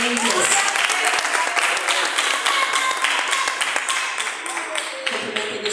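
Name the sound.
congregation applause in church service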